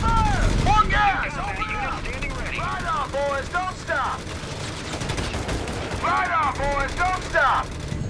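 Gunfire rattles in Company of Heroes 3 during a pre-alpha Allies 1v1 multiplayer battle. Loud, dense bursts of shooting keep going under soldiers' shouted voice lines that come in several clusters.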